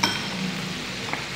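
Chicken cooks in a pan with garlic, ginger and green chili paste, giving a soft, steady sizzle with a faint clink of a utensil, quiet and brief.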